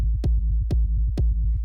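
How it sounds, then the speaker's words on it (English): Three loud techno kick drum hits from a two-layer instrument rack land evenly with a punchy click and deep boom, separated by a rolling low bassline, with no voices present. "We have this kick."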